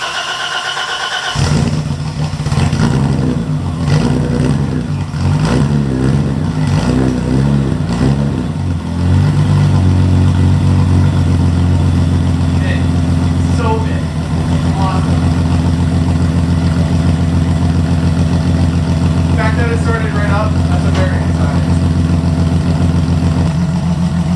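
A BMW E30 engine, fitted with a new alternator, cranks and fires up, then settles into a steady idle that runs on close by, with a few faint squeaks and other noises over the top.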